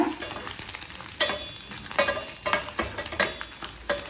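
Dried red chillies and garlic cloves fry in oil in a kadai, a loud close crackling sizzle punctuated by sharp scraping stirs of a spatula, with no one speaking.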